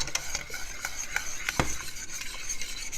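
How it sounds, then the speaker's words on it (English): A whisk stirring homemade cheese sauce in a pan, scraping the bottom in a steady brisk rhythm, close and continuous with occasional light metallic taps, no voices. "as we're whisking, we're picking up everything off the bottom of the pan"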